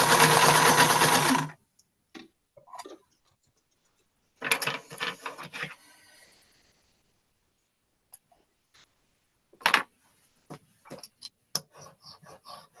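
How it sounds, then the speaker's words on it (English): A sewing machine stitching at a quilting table, a loud steady whir at the start followed by shorter bursts and scattered mechanical clicks and ticks, close by with no talk. "Nora, you've got to get off my sewing machine foot"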